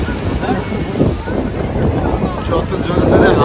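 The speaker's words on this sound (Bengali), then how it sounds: "দেখো একটু কেমন ঢেউ।" Sea waves wash in at Digha beach under strong gusting wind, a loud, continuous rushing roar with wind buffeting the microphone and faint talk mixed in.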